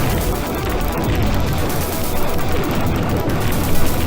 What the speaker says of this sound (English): the enemy ships are firing at us as well